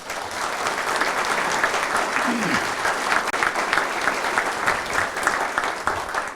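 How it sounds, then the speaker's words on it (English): Audience applause at a swearing-in ceremony for a new police chief in Broken Arrow, steady and dense clapping from a large crowd that holds at an even level throughout. "let's give those folks here a round of applause"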